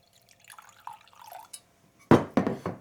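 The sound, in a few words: splash of water poured into starter jar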